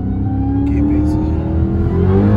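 A 2021 Dodge Charger Redeye's engine revs and accelerates hard, its loud rising roar climbing in pitch over the whole stretch, heard close from inside with a voice talking over it.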